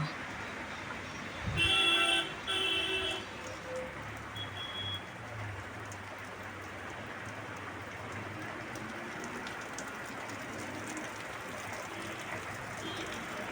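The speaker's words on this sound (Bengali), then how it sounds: "বাইরে দেখো বৃষ্টি হচ্ছে প্রচণ্ড" Heavy rain pours down outside a house, a dense, steady hiss that fills the whole stretch. A few brief horn-like toots sound near the start.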